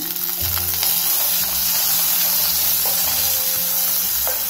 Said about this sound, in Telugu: కొంచెం కరివేపాకు వేస్తున్నాను.